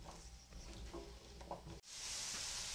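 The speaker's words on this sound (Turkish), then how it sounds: "Havuçlarımı da yine patateslerim gibi hafif kızartıyorum." Diced carrots fry lightly in oil, giving a soft sizzle with faint stirring scrapes, then a brief dip before a brighter, steadier hiss takes over; quiet and close, with no talking.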